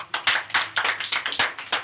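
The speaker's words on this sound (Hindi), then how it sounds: "ताली बजा जोर से भाई" A classroom of students claps together in a quick, fairly even burst of about a dozen sharp claps, close and alone, with no talk over it.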